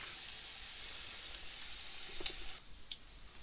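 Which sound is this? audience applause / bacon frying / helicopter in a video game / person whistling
bacon frying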